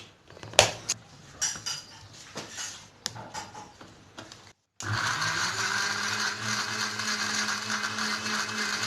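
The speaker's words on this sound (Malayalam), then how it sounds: "ഇനി നമുക്കിത് അടിച്ചെടുക്കാം." A blender whirs steadily as it purees a grape milkshake spiced with cardamom, loud and continuous after a run of short clinks and knocks of utensils and dishes.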